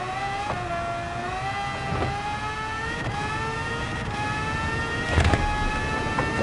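A race car in a racing video game holds a steady, whining engine note flat out through a corner, with a faint thump or two near the end.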